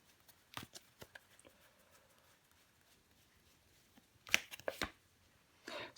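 Tarot cards handled and laid down on a table, with a few soft taps and slaps followed by a brisker cluster of card flicks and shuffling, close and quiet.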